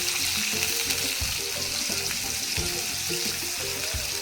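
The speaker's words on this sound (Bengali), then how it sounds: "পেঁয়াজ কুচি দিয়ে লালচে করে পেঁয়াজগুলি আমি ভেজে নেব।" Chopped onions frying in oil with whole cardamom, cloves, cinnamon and bay leaf, a loud, dense, continuous sizzle with occasional stirring knocks, no voices.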